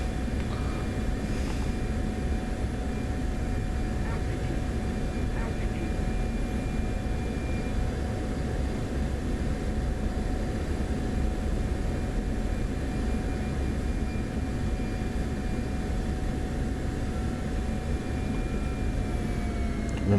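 A steady, droning jet-engine roar from an F-16 in the DCS flight simulator holds at an even level throughout, a continuous broadband cockpit hum with no talk.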